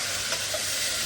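Onions sizzle and fry in a hot pan, a brief, steady, bright crackling hiss with a couple of soft stirring touches and no talking.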